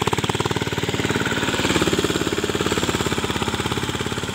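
A Swaraj mini tractor plows a field with its engine running loud and close, a steady rapid thumping throb that holds an even rhythm throughout.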